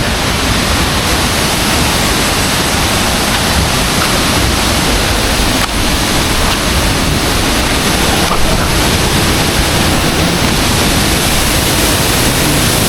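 Waterfall and cold, clear river water flowing below the falls, a steady loud broadband rush that fills the whole clip without a break and with no voices.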